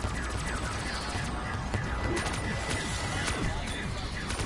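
Rapid gunfire in Black Ops 3 Zombies, a dense continuous barrage of automatic shots and bursts with no pauses, loud and close throughout.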